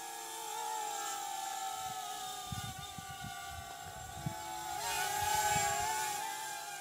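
Small Hubsan X4 quadcopter drone in flight, a thin high-pitched whine of tiny rotors that rises and dips as it maneuvers, with a few soft bumps and rattles underneath, fairly close.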